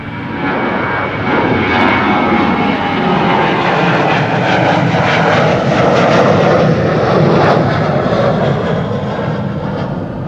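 Transavia airliner jet engines at Schiphol airport, a loud, steady roar that swells and holds throughout, broadband and continuous with no voices.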